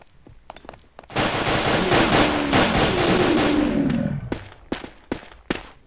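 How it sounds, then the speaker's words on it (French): Gunfire in GMod DarkRP: a few sharp single shots, then a loud sustained burst of rapid automatic fire lasting about three seconds, followed by several more isolated sharp reports. "J'ai tiré 3 balles déjà"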